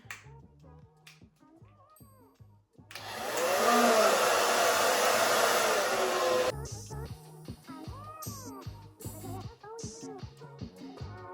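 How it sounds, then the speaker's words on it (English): A hair dryer roars steadily for a few seconds while curtain bangs are blow-dried over a round brush, with quieter handling noises and a voice before and after the blast. "This is how I'm gonna blow dry them though."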